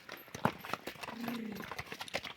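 A mare's hooves knock and clop on hard ground during shoeing, a few uneven sharp strikes close by, with a voice briefly audible alongside.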